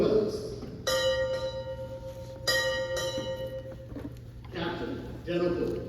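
At a US Navy change of command ceremony for an expeditionary medical facility, a ship's bell rings out in ringing strikes grouped in pairs, the tones decaying over the steady hum of the hall, with a voice announcing before and after.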